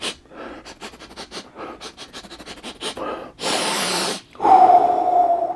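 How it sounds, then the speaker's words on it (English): A person sniffs a boxed Sicaran battle tank model kit: a run of quick short sniffs, then a long hissing inhale and a breathy exhale, close and loud. "Let's have a quick little sniff."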